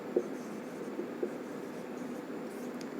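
Steady, faint scratching of a marker or chalk on a board while a chemistry formula for potassium iodide is written in a secondary-school lesson, with a couple of light taps over a low room hum.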